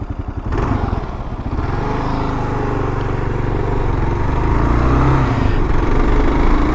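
Several motorcycles roar past close by near a river, a loud steady engine drone that swells and holds across the whole stretch with no talking.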